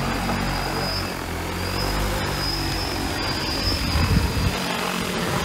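An agricultural crop-spraying drone lifts off automatically over a farm field in Ruisui, its rotors producing a loud, steady propeller drone with a thin high whine and no voices.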